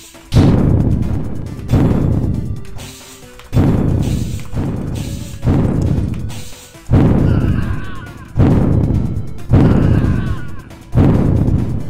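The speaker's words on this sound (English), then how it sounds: "how these explosions propagate over multiple turns" Explosions in the video game DROD RPG go off in a repeating series of about nine loud, booming blasts, each with a sharp attack and a decaying tail, spaced roughly a second and a half apart.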